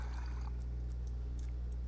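Drinking from a water bottle in the survival game Stationeers on Mars: a short liquid pour and gulp near the start, then only a steady low machine hum with faint scattered clicks.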